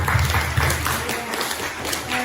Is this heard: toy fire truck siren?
no